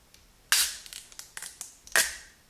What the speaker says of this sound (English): I guess I need to peel this off.